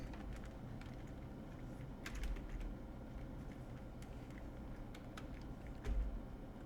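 Keys tapped on a computer keyboard to enter a web search, a steady run of light clicks over a low background hum, with a couple of slightly heavier thumps.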